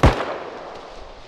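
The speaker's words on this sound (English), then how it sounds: "He's shooting someone up ahead." A single sharp gunshot from a bodycam-style shooter game fires in woodland, loud and close, then fades into a short rolling echo.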